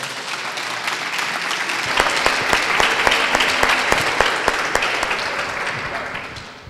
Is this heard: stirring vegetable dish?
no